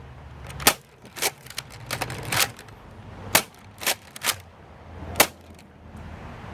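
A K26 Roto Fury dart blaster fires LighTake Mega Darts, a run of sharp pops and snaps, some close together in pairs, spaced irregularly over a quiet background.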